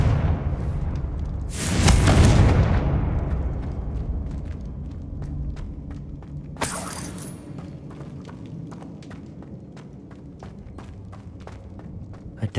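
A Confringo blasting spell in Hogwarts Legacy erupts in a loud, rumbling explosion, followed a few seconds later by a second sharper blast, with faint ticking and footstep-like clicks trailing after.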